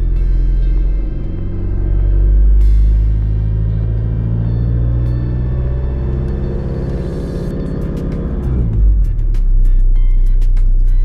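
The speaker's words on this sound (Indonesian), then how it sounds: "lalu ini saya gas pelan-pelan, saya rasakan. Biasanya saya sampai RPM 2000." The diesel engine of a Kia Carnival is revved gently to about 2000 RPM from the driver's seat, a loud, deep, smooth rumble that swells slightly and then settles back toward idle.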